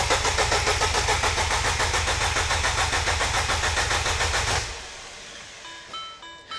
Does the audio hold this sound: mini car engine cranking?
yes